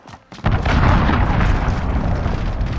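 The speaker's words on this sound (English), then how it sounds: "Allied cruise missile launched." A cruise missile strike in Call of Duty Modern Warfare multiplayer lands as a sudden loud, deep boom after a short quiet lead-in, then rolls on as a sustained rumbling roar for the rest of the moment.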